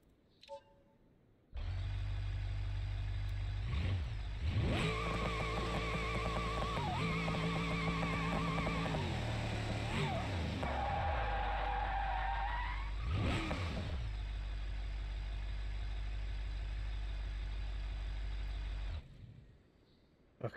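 V8 drift car in BeamNG.drive, its engine roaring loud and close, climbing through repeated revs with tyre squeals mixed in before the sound cuts off abruptly.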